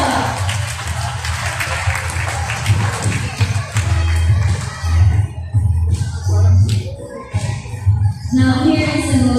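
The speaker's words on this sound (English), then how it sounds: "how about a round of applause for Tua?" An audience applauds for Tua, a sustained patter of clapping with crowd murmur and voices, fairly loud and close.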